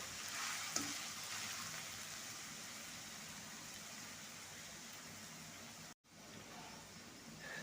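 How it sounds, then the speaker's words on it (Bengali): Shredded potatoes frying in oil make a constant, fairly quiet sizzling hiss, broken by a brief dropout, with a small clatter near the start. "এবার আমি তেলের মধ্যে এই আলুগুলো দিয়ে দেব। এবার এগুলোকে একটু সময় নিয়ে একটু লাল লাল করে ভাজতে হবে।"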